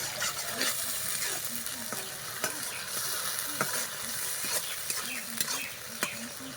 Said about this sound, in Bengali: মশলাটা ভাজতে হবে, যত ভালো কষানো হবে টেস্টটা ততই বাড়বে